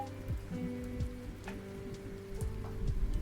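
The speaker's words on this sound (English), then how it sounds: "I hear there is a pocket of rain for times like this." Steady rain patters in VR Subnautica, a continuous close wash of drops on a surface lasting throughout, with low tonal game sounds beneath and no talking.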